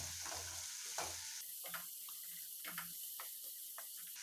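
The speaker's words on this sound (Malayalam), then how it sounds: "സവാള വഴറ്റുമ്പോൾ തന്നെ നമുക്ക് അതിൻ്റെ കൂടെ ഒരല്പം ഉപ്പ് ചേർത്ത് കൊടുക്കാം" Onions sautéing with a pinch of salt in a pan for butter chicken, a soft steady sizzle with a few stirring scrapes, close by, no voices.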